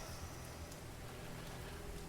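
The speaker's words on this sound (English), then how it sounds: "just like in real life, it's raining like hell" Heavy rain pours steadily in a video game, a dense, even hiss with no breaks across the whole stretch and no voices.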